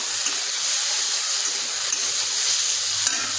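Bitter gourd, potato and morala fish fry in oil in a pan, giving a loud, steady hiss and sizzle heard close up, with a few small pops and no voices.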